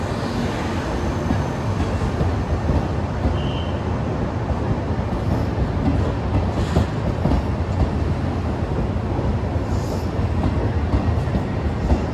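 Train rolling into platform 2 at Venezia Mestre station, a steady loud rumble of wheels and carriages with faint clatter throughout, no voices.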